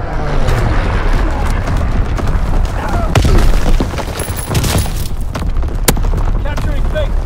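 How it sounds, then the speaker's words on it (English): Division artillery in Call of Duty: WWII lands in a dense barrage of loud, rumbling booms and bursts over constant battlefield noise, with game voices calling out over the blasts. "Firing division artillery!"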